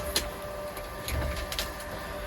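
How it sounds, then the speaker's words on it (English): A printer runs steadily with a continuous mechanical whir, punctuated by a few sharp clicks and shuffles as paper feeds through. "I'll just wait for this to finish printing so I can hear myself."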